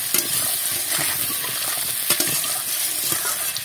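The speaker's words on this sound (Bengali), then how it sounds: "আর একটু ভেজে নেব।" Salted potatoes crackle and sizzle in hot oil close by, with occasional light clinks and stirring scrapes over the continuous frying hiss.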